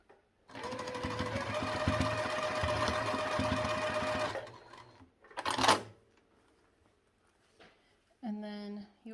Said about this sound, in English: And we'll put this one on here and sew across, 1/4 inch seam allowance.